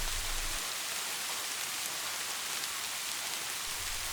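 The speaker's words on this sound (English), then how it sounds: "as the rain continues" Steady rain falling, a soft even hiss of drops on surfaces, faint and continuous without any other sounds.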